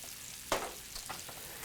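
Chopped andouille sausage drops into a hot pan of garlic with a sudden burst of sizzling, then settles into a low steady fry marked by a few faint crackles and stirs, with nobody talking.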